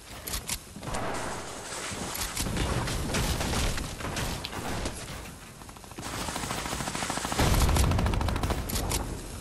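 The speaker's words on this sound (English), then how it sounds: "look how many fucking times I have to shoot him" Video game gunfire: continuous rapid bursts of automatic shots, loud and dense, with heavier booming blasts toward the end.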